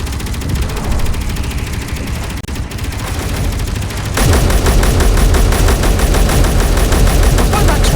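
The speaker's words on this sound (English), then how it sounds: "use its guns. We're in range, so that Gatling will be able to hit stuff." Gatling gun fire in the Space Engineers video game: a steady din that breaks at the midpoint into a loud, continuous, rapid-fire stream of shots close by, with no pause.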